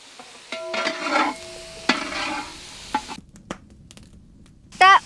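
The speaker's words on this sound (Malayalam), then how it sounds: "ഇളക്കിക്കോ." Spinach with a little salt wilts in a pan during Kerala Palakkad-style village cooking, with quick stirring scrapes over a soft sizzle and a brief clatter near the end.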